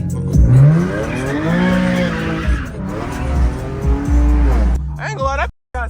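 An Infiniti G37 with a flame tune and bald tires slides sideways, its tires squealing in long wavering whines over a loud engine roar, with voices talking close by throughout.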